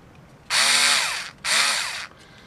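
A small cordless revolver screwdriver's motor whirs in two close, loud bursts, each about a second long with a brief pause between, and a steady high whine that rises as it spins up.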